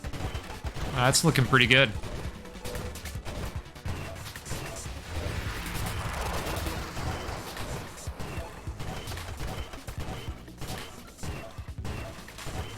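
Turret fire from a ship in the asteroids-style roguelite game Nova Drift, a dense burst of rapid shots and crashes early on, then a steady busy wash of game effects as someone talks over it.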